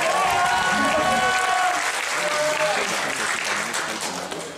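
A crowd at a geek convention quiz show in Lyon breaks into loud, sustained applause, with clapping filling the room and a few voices and whistles over it before it slowly tapers.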